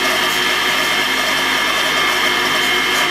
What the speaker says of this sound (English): I'm going to take it over to my buffing wheel to get an extra shine on it